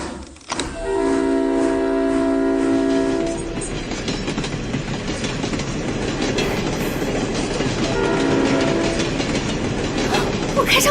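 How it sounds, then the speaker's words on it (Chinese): A steam train rolls along rails with a steady rumbling clatter, loud and close, as its horn sounds in long tonal blasts near the start and again later. "我真的开上火车了！"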